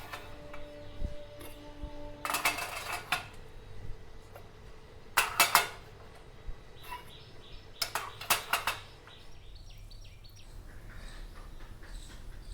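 Dishes being put away in a home kitchen, three separate bursts of clattering and clinking spaced a few seconds apart, close by, with quiet room noise between them.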